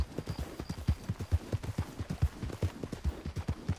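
Rapid, rhythmic hoofbeats of a horse in Red Dead Redemption 2 thud close and clear in a steady galloping clip-clop, with no talking over them.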